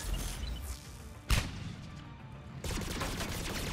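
Gunfire aimed at a Geth Prime in the video game Mass Effect 3: one sharp, loud shot near the midpoint, then a stretch of denser sustained firing toward the end, all over a busy combat background with no talk.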